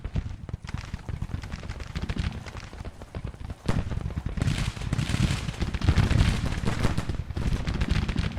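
Artillery and rifle fire crackle through a Grand Tactician: The Civil War battle at Springfield, with cavalry engaging the guns. Dense overlapping shots and booms roll continuously, swelling louder in the second half.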